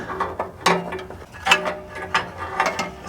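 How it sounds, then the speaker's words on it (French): An 18 mm socket wrench ratchets on a car engine mount bolt, giving short bursts of loud, close mechanical clicking with brief pauses between strokes. No speech. "Je vais essayer de mettre une clé à pipe"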